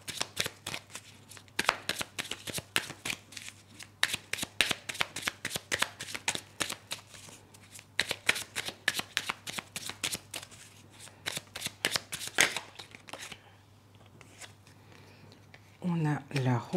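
Tarot cards are shuffled in rapid riffling bursts and then drawn, the crisp papery flicks coming in close clusters with brief pauses, and a voice speaks softly at the end.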